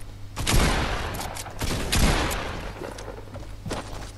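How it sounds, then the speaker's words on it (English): Fortnite gunfire crackles in several quick bursts with a short lull between them, fairly faint and heard without talk. "The guy's still shooting."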